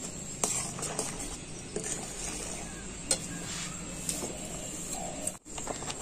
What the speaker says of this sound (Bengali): অল্প অল্প করে দেবো আর এইভাবে নাড়তে থাকবো